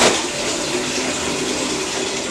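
Water running steadily from a tap into a basin, used for rinsing latex clothing: a continuous close, full rush of flowing water with no pauses and no talking.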